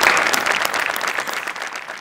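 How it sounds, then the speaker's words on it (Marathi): Studio audience at a Marathi comedy show breaks into loud, sustained applause, a dense wash of clapping that holds steady for the full two seconds and tapers only slightly toward the end. "त्यांना आपण मनापासून धन्यवाद देऊ खूप टाळ्या वाजवून"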